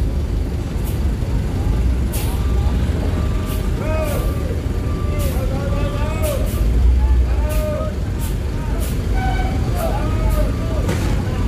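Heavy Jetbus 5 coach rumbling steadily close by, with a loud continuous engine drone and voices talking over it.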